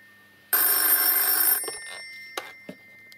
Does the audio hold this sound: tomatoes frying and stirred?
no